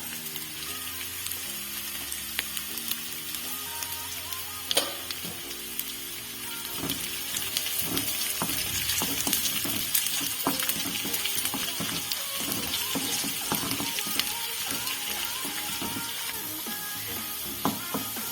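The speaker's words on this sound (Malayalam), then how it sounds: "ഇനി അതിലേക്ക് വെളുത്തുള്ളി ഇട്ട് കൊടുക്കുകയാണ് അതിൻ്റെ കൂടെ തന്നെ ഇഞ്ചി ഇട്ട് കൊടുക്കാം" Garlic and ginger dropped into hot oil with onions while making rasam, giving a steady, close frying sizzle with intermittent clatters and faint tonal sounds in the background.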